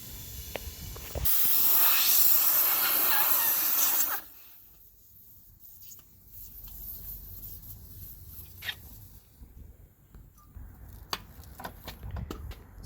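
A semi truck tire is filled with air, starting with a loud, steady, close hiss that stops abruptly and leaves quieter shop noise and a few faint clicks.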